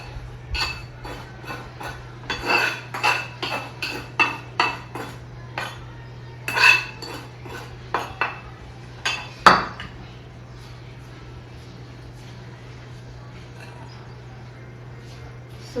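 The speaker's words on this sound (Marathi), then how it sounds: "सगळं आता मिक्स करून देते मी." Spice masala being mixed into a homemade turmeric pickle, with a steady run of close metal spoon clinks and scrapes against the dish for about ten seconds over a low steady hum, then quiet.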